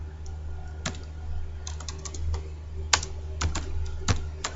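Code being typed on a computer keyboard in a quiet room, with irregular sharp keystroke clicks over a faint steady hum, some clustered in quick bursts and some standing alone.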